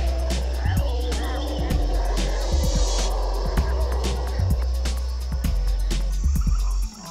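Frogs croak at night on the jungle floor, their calls forming a dense, continuous chorus with regular low pulses under a steady background hum.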